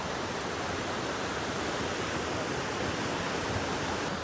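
Water rushing down between mountains in a Japanese village, a continuous even hiss of flowing water like a waterfall or stream, moderately loud and unbroken, with no voices.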